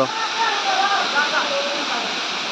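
A waterfall roars in a steady, loud, continuous rush of falling water. A voice talks faintly beneath the constant noise.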